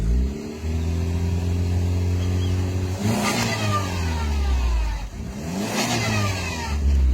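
A car stuck on a rural road revs its engine hard in two surges, the pitch climbing and dropping as it strains to break free, loud and close with no talking.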